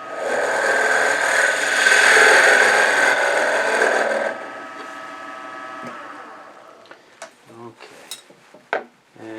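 A Viceroy cutting tool shears wood on a lathe while turning a jewelry box, a loud rasping whir for about four seconds that then stops, followed by scattered knocks and clatters of the workpiece and tools.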